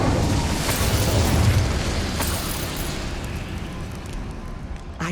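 An Incendio fire spell blasts out in Hogwarts Legacy, a loud burst of roaring flame that starts strong and slowly fades to a crackling rumble, with a sharp pop near the end.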